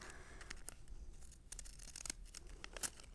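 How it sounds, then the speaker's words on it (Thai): Zigzag pinking scissors trimming wrapping paper, a series of soft, crisp snips and rustles, close and faint, with no talk over them. "เพราะฉะนั้นเพื่อความสวยงามเนี่ยให้ใช้กรรไกรซิกแซก เล็มอีกครั้งหนึ่งนะคะ"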